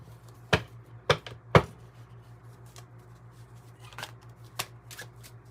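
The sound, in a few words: shuffling tarot cards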